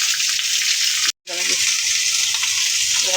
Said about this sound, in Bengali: সেমাইটা ভালোভাবে ভেজে নিয়েছি।